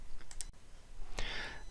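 A mouse click on a save changes button in a web page editor, heard as a couple of faint, quick clicks standing alone in a quiet room.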